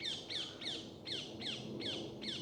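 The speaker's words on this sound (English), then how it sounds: "the birds really don't like me being here because they've probably got hatchlings in nests up here" Birds in a large village churchyard give a steady series of harsh, falling caws, roughly two or three per second, fairly loud and close over a low rumbling background.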